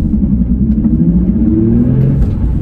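Nissan 350Z Nismo sports car engine, loud and close, a deep rumbling drone whose pitch climbs steadily as it revs up over a few seconds, with no talk.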